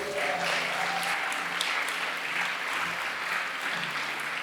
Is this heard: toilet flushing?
no